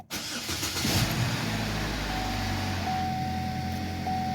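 A Chevy car engine with trouble codes P0011 and P0014 cranks and catches near the start, then settles into a steady, fairly loud idle with a faint whine running through it.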